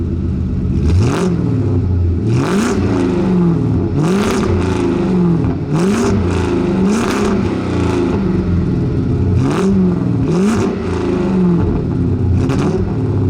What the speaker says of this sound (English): let's take a quick listen to what this car sounds like